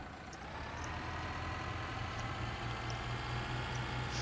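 A low, steady tractor engine rumble in the video game Pure Farming 2018, idling continuously with a faint drone, even and unchanging throughout.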